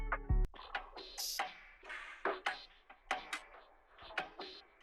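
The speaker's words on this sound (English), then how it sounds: "I also got this percussion loop from Only One," A percussion loop of crisp, clicky ticks and light hits falls in a bouncy, evenly repeating rhythm, played close and clear with no talking.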